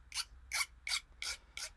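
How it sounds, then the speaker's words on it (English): Five short rasping scrapes at a steady pace, each a burst of bright hiss, from a blade shaving burrs off the threaded end of a plastic rod end during an RC crawler servo-on-axle link build; close and alone, no talk. "All I'm doing is just shaving off any burrs where it's kind of tipped out, so it doesn't cut a bigger thread than it needs to."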